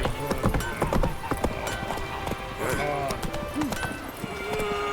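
Roach, the player's horse in The Witcher 3 on Death March difficulty, gallops with steady clip-clop hoofbeats close by, mixed with game ambience and a snort, while voices talk over it.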